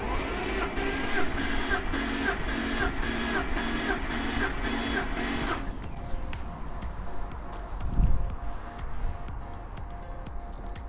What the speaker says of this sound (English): We're cranking until it's reaching the full maximum pressure.